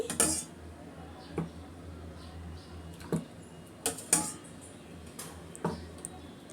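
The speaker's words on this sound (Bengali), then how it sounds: "এই মোল্ডে প্রত্যেকটার মধ্যে আমি মিক্সরনটা দিয়ে দিচ্ছি" Kulfi mixture being filled into ice cream moulds: a series of light clinks and taps from the moulds and utensils, spaced irregularly over a quiet kitchen background.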